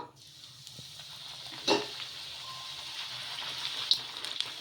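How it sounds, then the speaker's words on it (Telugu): Ridge gourd puri dropped into hot oil for deep-frying, a steady soft sizzle and bubbling hiss running throughout, with a brief louder splash-like burst as it goes in and small crackles later, close up. "ఆయిల్ వేడెక్కిన తర్వాత మనం రుద్దుకున్న పూరీని అయితే వేసేసుకుందాము"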